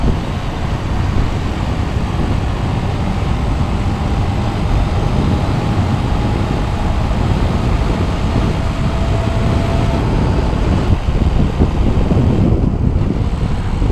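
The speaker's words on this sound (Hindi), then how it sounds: "अब ज़रा ठंडी ठंडी हवा चल रही है" A cool breeze blows steadily through Naltar Valley, a continuous broadband rush of wind buffeting the microphone at an even level for the whole stretch, with no voices over it.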